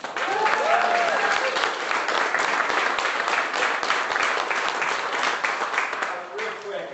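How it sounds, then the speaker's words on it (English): Loud, sustained applause from an audience at a Republican state senate fundraiser greets Erik Paulsen, a dense steady patter of many hands that fades slightly near the end. "Big round of applause for Erik Paulsen."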